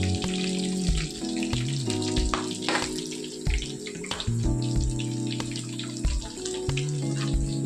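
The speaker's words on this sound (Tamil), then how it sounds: "இந்த ஸ்டேஜில் இது நல்லா வறுபட்டுருச்சு." Chicken with ground green chilli frying in a pan, a constant busy sizzle and crackle close up, with clattering stir strokes and tonal background music running throughout.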